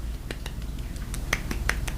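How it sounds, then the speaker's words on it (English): Several scattered finger snaps from a small group, sharp and close, with an irregular rhythm over a low background hum. "Snaps all around."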